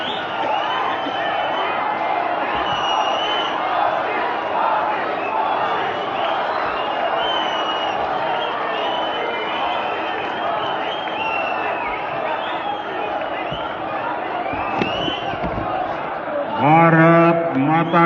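Large outdoor political rally crowd for Prime Minister Modi in Jammu, a dense continuous roar of cheering and clapping with scattered whoops, building briefly louder near the end.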